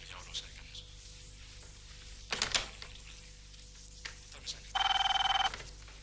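A short electric telephone bell rings once in a brief trill near the end, after some faint rustling and a soft voice.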